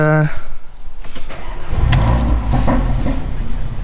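A mapped Mercedes-AMG A45 engine starts and revs nearby, a throaty rumble rising and holding, briefly under a voice.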